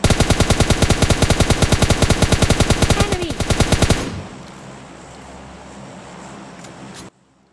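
Machine gun fire in PUBG Mobile Lite, a loud, rapid, evenly spaced burst that runs for about four seconds and then gives way to a low vehicle-like rumble before cutting off.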